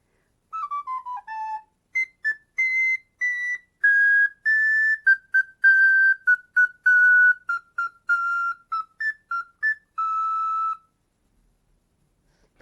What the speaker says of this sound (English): there's this. The Soprano recorder.